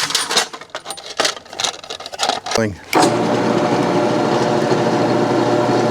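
Someone talks briefly, then a power drill with a 5/16-inch split-point bit starts up and whirs steadily at close range, drilling a through-hole, holding one even, buzzing pitch until the end.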